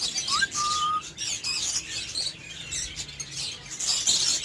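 Lovebirds at their breeding nest give sharp close chirps and squawks, with a quick rising whistle-like call early and busy twittering throughout.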